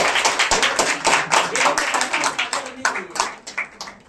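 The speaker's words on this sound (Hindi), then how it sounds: "एक बार जोरदार तालियां बजनी चाहिए" Students and teachers clap together at a school ceremony at an inter college, a dense, steady round of applause running throughout with some voices mixed in.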